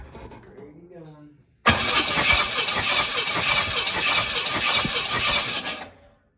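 A 1969 Pontiac Bonneville engine cranks steadily on the starter for about four seconds during a compression test, loud and close with a rapid rhythmic chug, then cuts off abruptly; faint talk comes just before.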